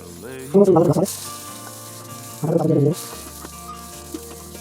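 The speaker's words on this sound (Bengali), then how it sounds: "এবার ভেজে নেবো আমি কদু" Gourd pieces fry in a pan with a soft, steady sizzle and hiss, broken by two short stretches of a person talking over it.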